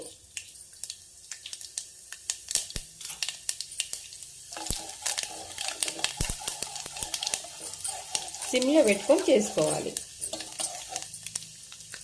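Mustard seeds, cumin seeds and black gram crackle and sizzle in hot oil, with sharp pops growing denser toward the end; a voice speaks briefly.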